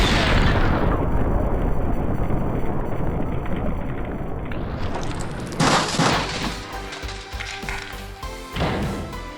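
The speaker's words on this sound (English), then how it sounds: "the PC just keeps going to this sweet explosion" A loud, booming explosion blasts a door after detonators are placed in the Max Payne video game on PC, with a heavy roaring blast that fades into crackling debris and rumbling aftershocks.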